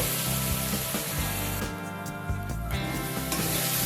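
A paste of poppy seeds and green chillies sizzles loudly in a pan while cooking prawns, giving a dense close hiss that dips briefly midway before returning, with faint stirring rubs and no speech.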